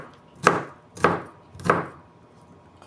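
A kitchen knife chops ginger and garlic on a board in three sharp, evenly spaced strikes, close and fairly loud, with no talking.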